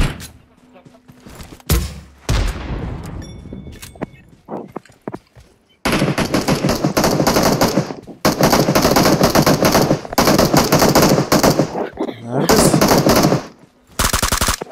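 Bursts of automatic gunfire from a video game's BRDM-2 armoured vehicle match, crackling in long sustained volleys with short gaps, loud and dense, with a few scattered single shots early on and a voice briefly heard.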